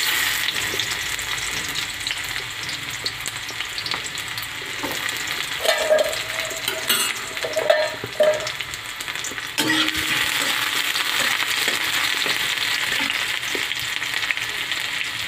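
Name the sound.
onions frying in a pan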